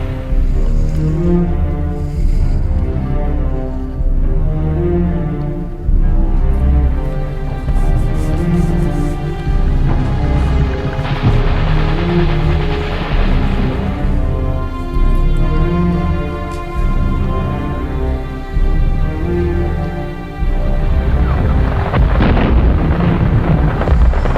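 A World War II tank battle near Bastogne from the series Band of Brothers: loud, continuous heavy rumbling and repeated explosive booms and blasts layered over a dense, dramatic soundtrack throughout.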